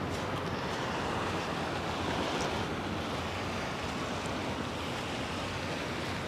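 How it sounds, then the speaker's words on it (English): Ocean waves washing steadily onshore during a trip to Miura, a broad continuous roar with faint wind, no voices. "You can enjoy the wonderful sounds of the ocean."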